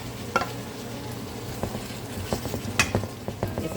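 Red onion sizzles in a hot pan while being stir-fried for shrimp fried rice, a steady quiet hiss broken by scattered clicks and scrapes of a utensil against the pan.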